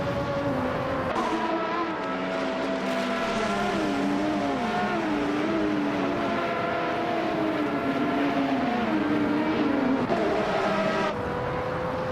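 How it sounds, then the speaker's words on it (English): Minardi M188 race car engine droning steadily with shifting revs over about twelve seconds, loud and continuous, with gliding engine tones and no talk. "Rokujoki 69 is driving the Minardi M188, which is known for its lightweight design and agility"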